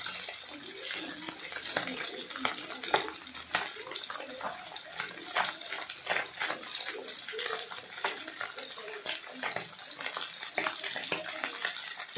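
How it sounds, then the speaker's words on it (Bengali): Continuous crackling sizzle of amudi fish frying in oil in a wok, dense and steady with busy spitting pops throughout, heard close up. "এক পিঠ ভাজা হয়ে গেলে অপর পিঠ আবার দিয়ে ভাজলাম ভালো করে।"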